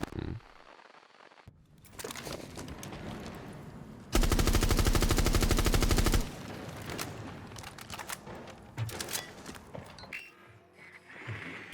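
Gunfire in Rainbow Six Siege, with scattered shots and then a sustained loud burst of rapid automatic fire lasting about two seconds, followed by more sporadic shots and game noise.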